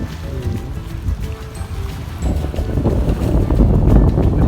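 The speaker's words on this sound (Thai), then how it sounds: "โอ้ลมแรงอ่ะ" Strong sea wind at the Hua Hin fishing pier in Thailand batters the microphone with a steady, rumbling roar that swells louder in the second half, with water churning underneath.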